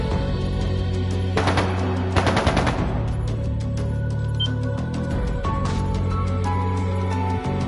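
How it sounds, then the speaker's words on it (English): Bursts of rapid gunfire crackle over a steady synthetic music bed with sustained tones, a few short volleys spread through it. "That sounded like gunfire."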